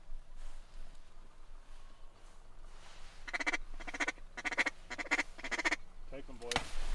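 Ducks and geese call near decoys on an Alberta duck hunt, starting as scattered quacks and honks, then a dense run of loud, overlapping honking in rapid bursts that ends in a sharp close bang.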